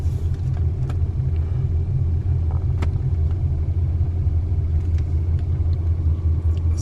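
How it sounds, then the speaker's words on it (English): A modified Ford Crown Victoria with long tube headers backing up into a garage, a steady deep engine rumble idling close by at low speed, with no revving. "He backing it up, about to do his thing now. Guess he about to put it in the garage."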